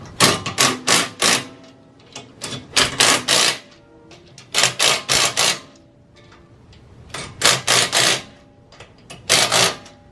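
A Craftsman impact wrench hammers at car wheel nuts on a Honda Civic sleeper build, firing in short loud rattling bursts of three to five hits, separated by quiet pauses.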